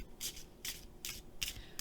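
A deck of Color Goddess casting cards is shuffled, with four evenly spaced rustling sweeps of card against card, close-up and soft, with no talk.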